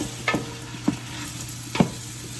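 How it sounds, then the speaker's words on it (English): Seasoning being stirred into a pot of chicken noodle soup, with three short distinct scraping strokes spaced about half a second apart over a steady low simmering hum. "And we're just going to mix that around."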